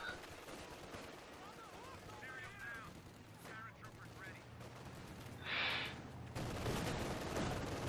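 Machine gun fire from an MG bunker in the video game Company of Heroes 2, sustained bursts of gunfire under a busy battle mix, with a commentator's voice over it.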